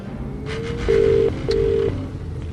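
Telephone keypad tones beep twice in a row, clear and close, after a soft handling clatter as the receiver is picked up, over a low background hum.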